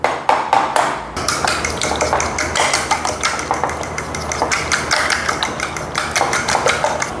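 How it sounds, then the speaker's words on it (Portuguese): Eggs are cracked and beaten in a bowl to bread pork cutlets for parmigiana. A couple of sharp taps open the sequence, then a long run of brisk, rhythmic whisking clicks, close and loud, with no speech. "Agora então a gente vai quebrar os ovos aqui."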